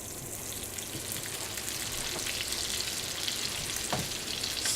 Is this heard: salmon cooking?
yes